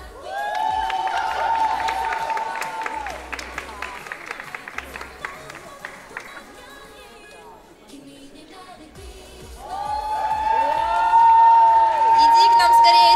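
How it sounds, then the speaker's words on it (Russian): Audience at an anime convention Christmas award ceremony claps and cheers, with scattered shouts and whistles and a host speaking over the crowd, the applause dipping midway then swelling loud again. "Еще немножечко аплодисментов"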